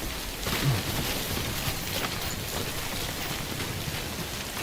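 Steady rain in the video game Death Stranding, a constant hissing wash with no pause, moderately loud and alone, with a faint low rumble near the start.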